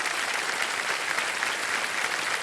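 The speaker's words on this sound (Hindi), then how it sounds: "एक बार इनके लिए भी ताली बज जाए।" A studio audience at the KBC quiz game show applauds with dense, continuous clapping that holds at an even level throughout.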